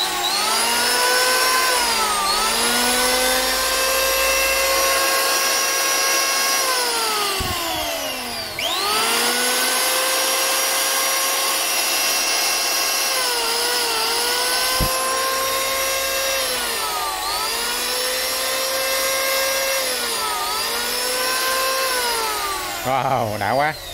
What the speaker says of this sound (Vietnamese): Nói chung các máy bào mà nó chạy êm lắm nè, rất là mượt luôn.